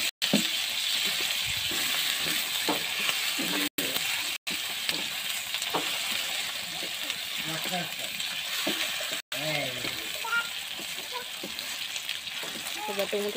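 Chopped tomato frying with onion and garlic in a pan gives a steady, close hiss of sizzling with occasional stirring scrapes, running under a voice talking throughout.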